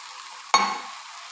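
Okra curry with turmeric powder and tamarind juice is stirred in a pan, a single sharp scrape and splash followed by a brief fading sizzle, close and alone.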